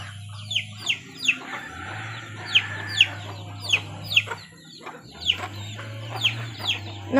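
Chickens cluck in short bursts, repeated through the clip at close to moderate range, over a steady low hum in a rural farmyard setting.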